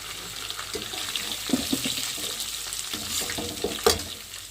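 Curry leaves are dropped into hot oil with lightly browned onion, giving a steady soft sizzle and crackle with a few louder pops and stirring clatters near the end.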